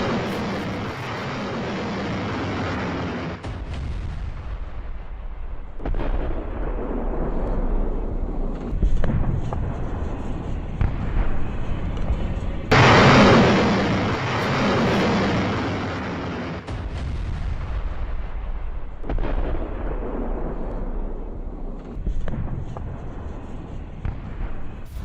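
Bombing in Donetsk, heavy booming blasts and rumbling that repeat through the stretch, with one especially loud explosion midway, loud and reverberant.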